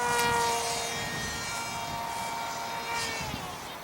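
A GT-21 multiple-pod wing prototype model aircraft flies overhead with its engine sustaining a steady, loud propeller whine and buzz that swells and eases slightly as it passes, with no talking.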